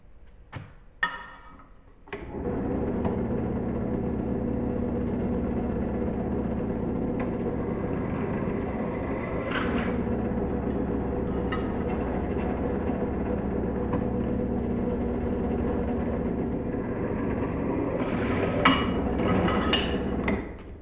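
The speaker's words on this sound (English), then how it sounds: "let's drill." A power drill bores holes for mounting Cobra side louvers. It starts with a few short taps, then one long steady whine runs for most of the stretch, close and fairly loud, with slight shifts in pitch and no talk.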